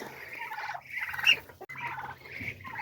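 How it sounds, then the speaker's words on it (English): A brood of baby ducklings kept indoors give a steady run of high, chirping peeps, repeated in quick bursts close by, with no talk. "Then we've got some new kids on this block. Some baby duckies."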